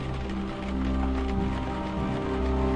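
Rain falling against a window in the video game Unavowed, a steady hiss of drops under a low sustained tonal hum, moderately loud and continuous with no speech.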